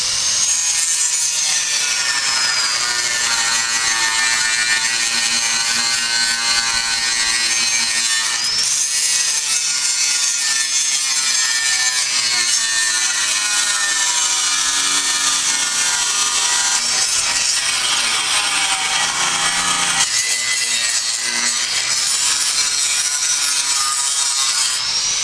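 Continuous loud abrasive grinding of rust off metal, a harsh sustained rasp with shifting pitch that briefly dips and resumes, with no talking.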